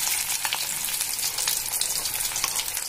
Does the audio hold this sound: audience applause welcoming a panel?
no